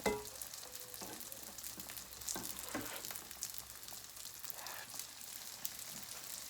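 Sfenj dough frying in oil, with hot oil poured over it, producing a faint, steady crackling sizzle with soft ticks and small bursts of bubbling throughout, no talking.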